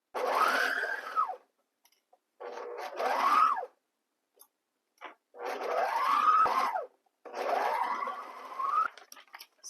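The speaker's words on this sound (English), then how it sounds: "So the easiest way to do this is with a serger" A serger runs in four separate bursts, each a second or so long, stitching the seams of a linen-style chemise dress. The motor whirs up and stops, with silent pauses between runs.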